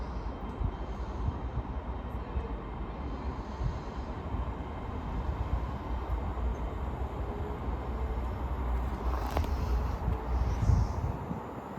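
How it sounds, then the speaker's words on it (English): A CrossCountry passenger train bound from Edinburgh Waverley to Penzance pulls into platform 1 at Durham station, a steady broad rumble of wheels and engine that swells slightly toward the end, with no voices. "Arriving in on platform 1 is a cross-country service off to Plymouth."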